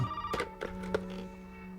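Telephone ringing inside the survival horror game Resident Evil 7, a brief electronic ring with a few bursts over a steady tonal hum, moderately loud and without talk.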